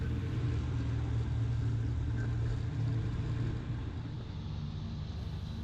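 A 2018 Polaris Ranger XP 1000 utility vehicle drives slowly through tall rough-cut grass towing a field mower, giving a steady, loud, close engine drone with a deep low rumble and no talk.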